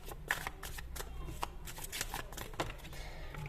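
Tarot cards are shuffled and drawn by hand in a quick, close, papery riffle of repeated flicks and snaps, with almost no voice.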